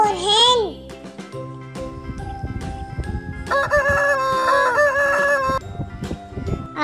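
A rooster crows loudly at the start, followed by a voice and a cheerful jingling melody with clucking hen sounds mixed in.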